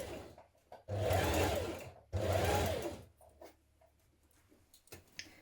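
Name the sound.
sewing machine stitching dress facing seam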